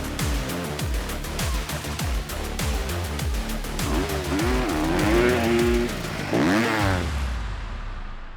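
A Ducati Desmo250 MX motocross motorcycle engine revs hard through a rapid series of rising pitch sweeps and gear changes, loud and close, ending in a sharp high-revving climb.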